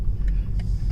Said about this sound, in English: The Audi is coming up on us.